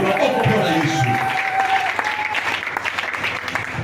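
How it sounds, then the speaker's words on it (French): A church congregation applauds and cheers for Jesus in a steady wash of clapping, with voices calling out over it throughout. "Est-ce que tu peux faire du bruit pour Jésus? Acclame pour le Seigneur."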